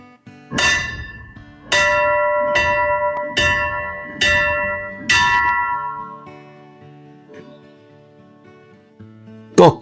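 A bell at Hollybrooke Adventure Farm in the Magaliesberg strikes five times in a steady rhythm, each loud, ringing stroke decaying slowly before the next, with a sharper clang at the very end.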